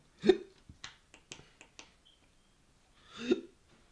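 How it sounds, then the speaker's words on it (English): A person hiccups in a quiet room: two sharp, close hiccups a few seconds apart, with a series of soft clicks between them. "I got the fucking hiccups."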